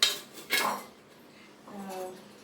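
A metal stand is set down inside a cooker before baking a sponge cake, with two quick clinks of metal on metal followed by a softer scrape, quiet and close.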